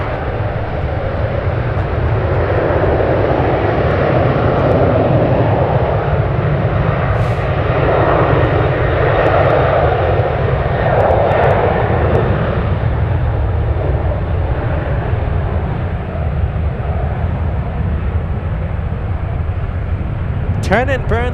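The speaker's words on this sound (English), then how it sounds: "Turn and burn for the 737. Heading to San Diego today, flight 1668." A Boeing 737 takes off from San Francisco for San Diego, its deep engine roar steady and loud across the clip, with a person talking over it.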